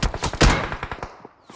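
Gunfire in a PUBG Mobile match comes as a rapid burst of sharp shots, one heavy crack in the middle, then it trails off into quieter, sparser reports.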